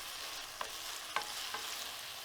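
Vegetables with onion for Korean bulgogi beef sizzle in a pan, a soft steady hiss with two or three light stirring scrapes, close and quiet.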